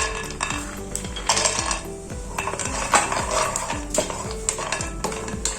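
Almonds roasting in ghee in a pan are stirred steadily with a metal spoon, giving repeated scraping and clinking against the pan over a soft sizzle, close and fairly loud.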